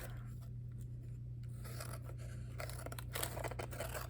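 Big scissors cut paper off a page, a series of scraping, rasping snips that come in irregular bursts, grow denser and louder toward the end, and sit over a quiet, steady background hum.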